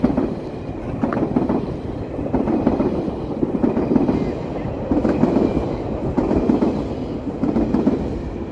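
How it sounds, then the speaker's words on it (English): A train rolls past in Toronto's Fort York neighbourhood near downtown, heading into Union Station on a wintry evening with snow flurries, its steady rumble and rhythmic wheel clatter loud and continuous throughout. "Here comes a train."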